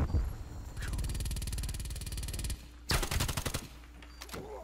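Rapid automatic gunfire in a video game, long sustained bursts of close, loud shots, a short pause, then a denser burst that trails into scattered single shots.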